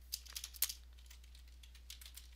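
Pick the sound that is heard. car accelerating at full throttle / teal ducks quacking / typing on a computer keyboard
typing on a computer keyboard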